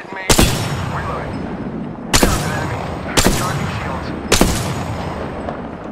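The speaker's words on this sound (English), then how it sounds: "Shots fired, and they're hitting me." Gunfire in the Apex Legends video game. Four loud, sharp bursts ring out in quick succession with short gaps between them, and each one trails into a rumbling decay.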